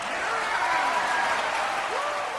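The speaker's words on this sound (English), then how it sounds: "You cheer when a man of my stature, your United States Champion, gets brutalized by a thug named Rey Mysterio" An arena crowd in a WWE SmackDown wrestling video game cheers and applauds in a steady, dense roar that holds at an even level throughout, with faint rising voices in the mix.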